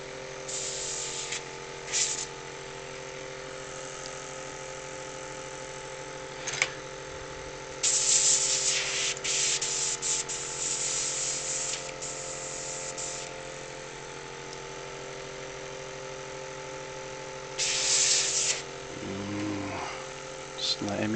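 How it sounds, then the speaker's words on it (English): An airbrush spraying paint onto a miniature; close hissing bursts come and go a few times over a steady motor hum, while a person talks throughout. "Didn't say I couldn't use my airbrush"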